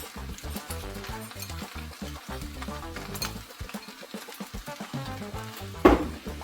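Combination fried rice with green onions is stir-fried in a pan, with rhythmic scraping and tossing of a spatula against metal over a low sizzle and a sharp clatter near the end.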